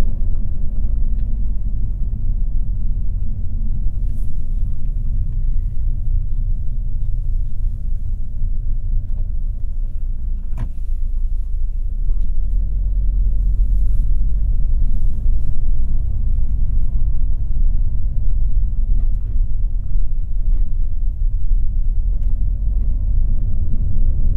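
A car with a Selespeed automated gearbox driving along, heard from inside as a steady low engine and road rumble that holds throughout, with no clear shift breaks and no talking.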